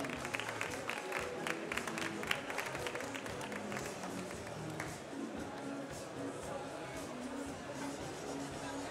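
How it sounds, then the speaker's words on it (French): An audience at a brewers' coffee competition applauds the judges, a faint, steady wash of clapping heard from a distance across a large hall, with voices mixed in. "On les applaudit bien fort"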